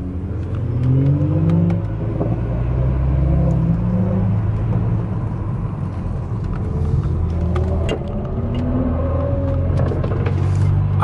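An Alfa Romeo Giulia engine revs hard and rumbles loudly from close by, with sharp exhaust pops crackling between the rising and falling revs and no talking over it.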